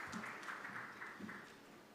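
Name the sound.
audience applause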